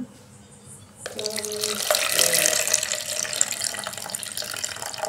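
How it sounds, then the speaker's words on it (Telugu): Soaking water is drained from sprouting grains into a sink. After a second of near quiet, a steady, fairly loud pour and splash of running water starts and carries on close to the mic. "దీంట్లో వాటర్ అయితే తీసేసుకుందాం."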